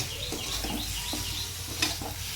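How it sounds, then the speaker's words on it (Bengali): Boiled potatoes frying with spices and turmeric in hot oil, a steady close sizzle with a few spatula scrapes and stirring knocks over it, no talking. "এগুলো দিয়ে একটু ভেজে ভেজে নেব আলুটা"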